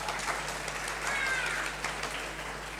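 Audience applause at a Brisbane Tamil school cultural concert: a steady, fairly distant wash of many hands clapping at once, holding an even level throughout with no voices on top.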